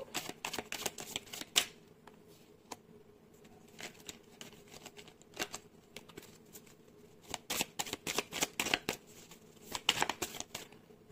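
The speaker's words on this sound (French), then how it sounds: "On va aller prendre les 3 cartes du tarot." Tarot cards shuffled and drawn by hand, giving quiet, crisp riffling snaps and soft flicks in irregular clusters, close and without talk.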